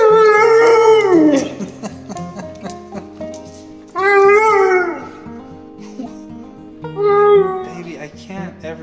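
A pit bull howls and whines in long, wavering, sad-sounding cries, three rising-and-falling howls close to the microphone, with someone talking between and under them.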